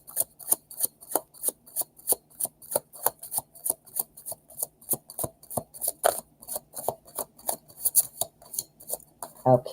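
A tarot card deck is shuffled over and over in quick, rhythmic riffles, each one a crisp, close flutter of cards. The bursts come at a steady pace with no talking.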